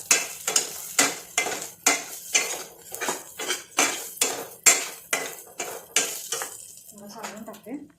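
A spoon stirs homemade onion-garlic masala in hot oil for a village-style brinjal curry, scraping the pan in a steady, regular rhythm of about fourteen loud strokes over a light sizzle.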